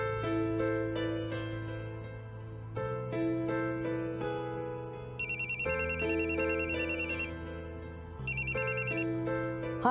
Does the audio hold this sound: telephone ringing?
yes